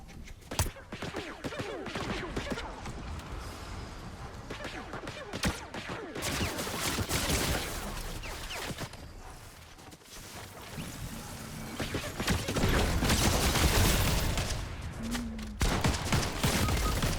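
Rapid bursts of gunfire in the video game Fortnite, sharp overlapping shots fired in quick succession over a dense, busy game soundscape that stays loud throughout.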